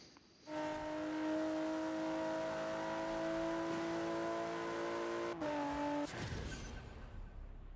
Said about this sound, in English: You can go full throttle in corners with that car.